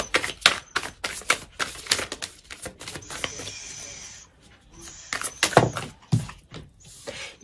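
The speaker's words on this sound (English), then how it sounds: "I'm going to shuffle one more time." Tarot cards are shuffled in quick bursts of crisp riffling and slapping, with short pauses between bursts, close and clear.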